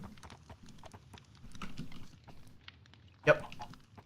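Horse hooves clip-clopping in a video game, quiet, quick irregular taps with a louder thump near the end, under faint background talk.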